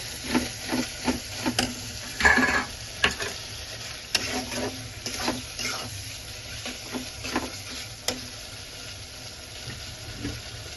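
Chillies, dried chillies and cumin paste are sautéed and stirred in a pan, with repeated scraping and clinking strokes of a spoon over a soft sizzle, close and steady with no talking.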